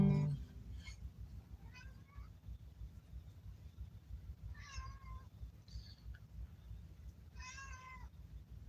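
A cat meows several times at spaced intervals, moderately close and fairly quiet, over a low background hum with no talking.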